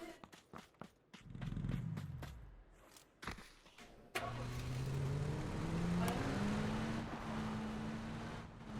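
A Bronco vehicle in the video game PUBG drives with a rising, revving engine drone that builds steadily and holds, preceded by scattered footsteps and a brief engine burst.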